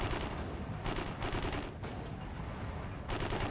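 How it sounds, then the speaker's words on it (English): Gunfire in the online shooter Warhammer 40,000: Eternal Crusade rattles in dense, sustained bursts with brief gaps between volleys, loud and continuous, with no voices. "I see some players shooting over here."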